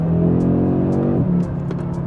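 A 2023 Audi RS3's five-cylinder engine pulls hard in second gear, a loud, steady harmonic drone climbing through the rev range for over a second before easing off as the note settles lower.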